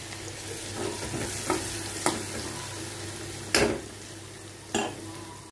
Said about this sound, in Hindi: अब मैं सबसे पहले इसमें ये लहसुन डाल दूँगी। थोड़ा सा लहसुन पक जाए